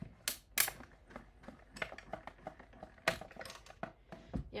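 A Stampin' Cut and Emboss die-cutting machine is cranked to cut paper shapes, producing a busy, irregular run of crisp clicks and clacks up close, with no voices.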